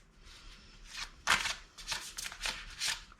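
A deck of Oriens Animal Tarot cards being shuffled by hand, several quick riffling bursts close up in a quiet room.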